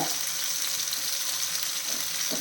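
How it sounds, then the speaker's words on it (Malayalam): Vegetables sauté in a pan over medium flame, a steady close sizzle and crackle throughout with no speech. "ഇതിൻ്റെ സൈഡും ഒന്ന് വഴറ്റി കിട്ടണം"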